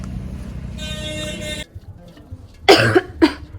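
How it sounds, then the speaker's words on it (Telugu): A person gives a few harsh, severe coughs close up, two sharp bursts late in the clip, following a stretch of traffic noise with a vehicle horn sounding on a mountain pilgrimage route. "సారీ, నాది ఎప్పుడు కాఫ్తోనే స్టార్ట్ చేస్తున్న వీడియో. చాలా సివియర్గా ఉంది కాఫ్"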